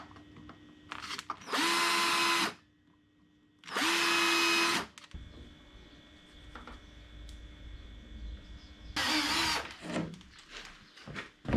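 An electric drill bores holes into a plywood boat hull in three short, loud bursts, each winding up and cutting through, with quieter handling noise between them.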